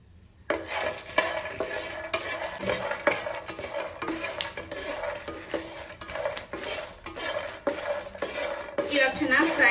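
Red chilli, garlic, curry leaves and tamarind fry in a pan for peanut chutney, with steady stirring scrapes and clinks of a utensil against the metal over a soft continuous sizzle, close and moderately loud without talk.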